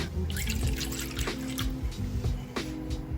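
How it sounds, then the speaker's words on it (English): A cup of milk poured into a bowl of pancake batter with an egg already cracked in, a short close trickling and splashing with faint drips, no voices. "I'm gonna put in my cup of milk."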